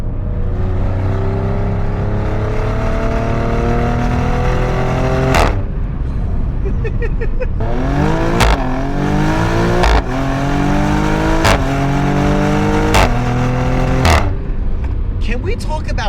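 A Maserati Grecale Trofeo SUV, rated at 523 horsepower, accelerates hard through a corner. The engine rises in loud, close revving surges, and each climb is cut by sharp, quick gearshifts.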